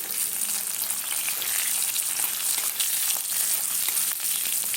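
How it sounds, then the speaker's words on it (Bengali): Boiled potatoes frying in mustard oil in a wok, a loud, steady, dense sizzle that carries on without a break and with no voices. "আলুটাকে প্রথমে ভেজে নেব, আলুটা ভেজে তুলে নেব।"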